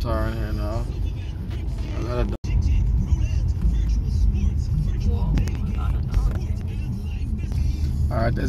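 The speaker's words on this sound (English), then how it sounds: "See a car coming out there" A car engine rumbles on a road where the paved surface ends in West Bank Demerara, a steady low drone heard under continuous talk by a man.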